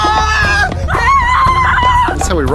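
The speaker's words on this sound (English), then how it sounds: "come down and be panicked villagers for Dale for when it gets desolated by Smaug" A crowd of people recorded as panicked villagers fleeing Smaug's attack on Dale in The Hobbit scream together, loud and close, in overlapping rising and falling wails that last the whole stretch.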